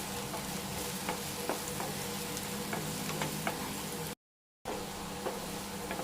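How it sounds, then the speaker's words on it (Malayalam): Sliced ripe banana sizzles steadily in hot ghee in a pan, with soft scraping clicks as it is stirred, close and continuous, then a short gap before the frying resumes. "2 വശവും നല്ലപോലെ ഒന്ന് നെയ്യിൽ കിടന്നൊന്ന് സോഫ്റ്റായി വരണം."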